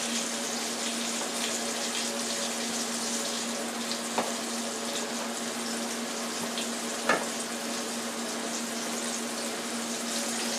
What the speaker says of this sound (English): Don't overcrowd the frying pan because it will drop the oil too much